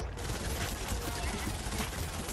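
An SMG fires in Fortnite, a dense continuous burst of rapid shots that fills the whole moment, with possible voice chat underneath.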